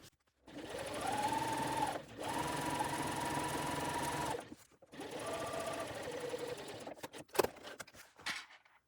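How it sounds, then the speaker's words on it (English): A sewing machine runs in three long bursts, stitching a quarter-inch seam on fabric for a pouch made from layer-cake precut quilting squares, with short pauses between runs and a few clicks and handling noises at the end; no one speaks. "I'm going to go ahead and sew this at 1/4 of an inch"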